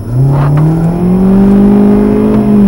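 A 2024 Hyundai i30 petrol sedan accelerates hard down a straight, its engine note climbing steadily and loudly from a low drone into a strong, continuous rising whir with no voices.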